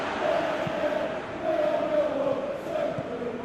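A large stadium crowd at a football match in PES 2021 makes a steady, distant roar and chant with no individual voices standing out.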